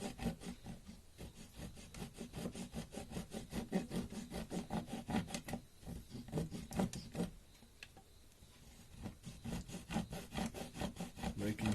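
A fine-toothed razor saw cuts through a small workpiece held in a miter box, a close, rapid back-and-forth rasp of even strokes that pauses briefly midway and then resumes.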